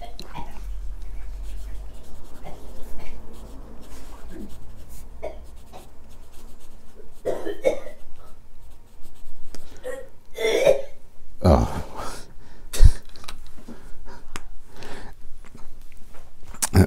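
A Lamy Al-star Gold 2020 Special Edition fountain pen scratches across Rhodia paper in short, close strokes, soft and intermittent with brief pauses and paper handling.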